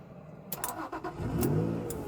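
A Honda NSX sports car with a failing main relay cranks in a few quick, uneven pulses, then catches and settles into a steady, close engine hum.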